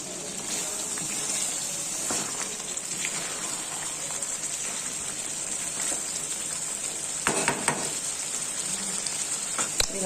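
Capsicum and onion pieces, fried beforehand, tipped into sizzling kadai chicken and stirred, giving a steady close hiss of frying with a few louder scraping bursts near the end, no talk.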